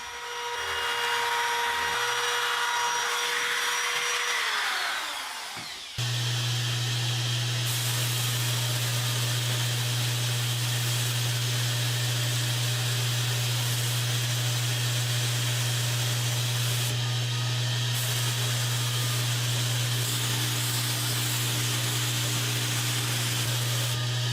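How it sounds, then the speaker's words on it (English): A router fitted with a 1/8 inch round-over bit runs loud and steady as it shapes the outside edge of a wooden dresser face, starting abruptly after a quieter whirring lead-in and continuing unbroken to the end. "I'm now going to take an 1/8 inch round over and put a round over on the outside edge of the visible face"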